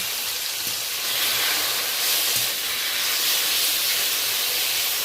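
Shrimp coated with salt and turmeric frying in mustard oil, a steady, loud sizzling hiss close up that holds evenly throughout with no talking.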